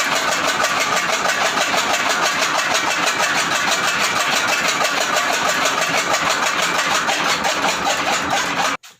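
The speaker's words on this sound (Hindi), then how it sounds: "तो 1 मिनट में आपको वैसे इसकी चलाकर स्पीड दिखा देता हूँ।" A toka chaff cutter machine runs at speed with a steady, dense mechanical whirr and rapid rhythmic clatter for about nine seconds, close and fairly loud, then stops abruptly. No one speaks.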